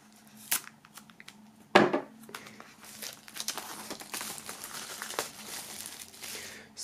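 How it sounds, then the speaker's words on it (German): Plastic shrink-wrap foil is peeled off a boxed album set, close crinkling and tearing with a sharp rip near the start, then scattered rustles and handling. "Und auch die beiden Inhalte holen wir natürlich, so wie auch die Box, aus der Folie."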